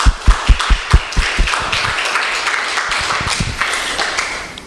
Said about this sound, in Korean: 우리 한번 주님 앞에 영광의 박수 올려드리십시다.